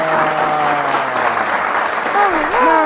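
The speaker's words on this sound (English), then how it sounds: "can we get a round of applause?" An audience at a casual podcast gathering gives a round of applause, a steady wash of clapping under overlapping voices and sung or drawn-out vocal tones, loud and close throughout.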